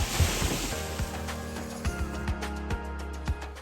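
Waves washing onto Jungut Batu beach on Nusa Lembongan, a steady low surf rumble with wind noise and periodic soft thumps of water breaking close by, no voices.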